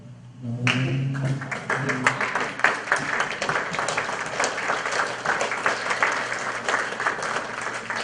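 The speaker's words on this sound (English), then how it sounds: "I would like all of you to stand and to applaud your parents" Steady applause from a crowd, many hands clapping continuously and fairly loud, starting abruptly and sustaining without letup.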